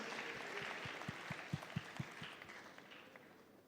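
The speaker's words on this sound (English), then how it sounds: "let's give a big round of applause to Ruby, the marketing director of BitKan" An audience applauds to welcome a speaker onto the stage at a digital mining summit, a short burst of scattered claps swelling to a peak and then thinning out, with faint talk underneath.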